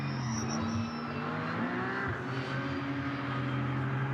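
An Aston Martin race car in qualifying for the 24h Nürburgring sweeps past, its engine a sustained loud roar with shifting pitch, mixed with other track noise and no talk.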